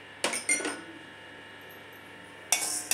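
Chana dal roasts in a pan while a spoon stirs it, making a couple of close scraping clatters, a quieter stretch, and then another burst of rattling against the metal.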